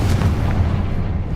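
Confringo fire spell exploding in Hogwarts Legacy, a loud deep boom with a rumbling tail filling the short moment.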